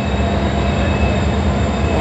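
A Pakistan Railways EMD HGMU30 diesel locomotive gives a loud, steady engine rumble up close, a dense continuous drone with no breaks.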